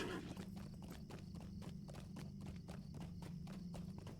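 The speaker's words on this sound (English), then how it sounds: "We're going to get on a horse to get down there" A horse in the Lord of the Rings Online game gallops in Middle-earth, its hooves beating in a quick, even clip-clop rhythm throughout, distinct and close but at a low overall level.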